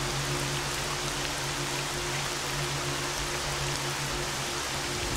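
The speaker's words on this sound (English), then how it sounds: "This rain is very loud." Heavy, steady rain pours down in the video game Stalker, a loud continuous hiss that fills the scene, with a low constant hum underneath and no talking.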